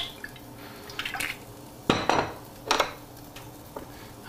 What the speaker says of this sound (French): Un peu d'huile dans mes deux casseroles.